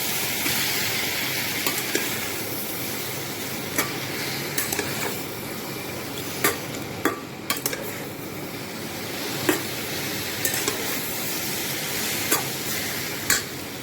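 Stem vegetables and tomato fry in a pan for data chorchori, giving a steady close sizzle with occasional clinks and stirring scrapes throughout.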